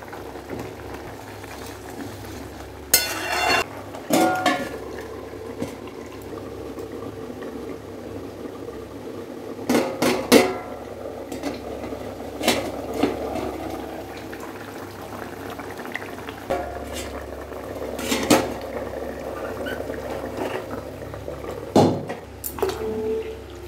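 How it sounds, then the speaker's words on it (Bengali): A pot of rice simmers on a home stove, bubbling steadily with soft gurgles and occasional louder clattering knocks and scrapes against the pot across a long stretch. "ভাতটা বসিয়ে দিলাম, একটু কমিয়ে দিই"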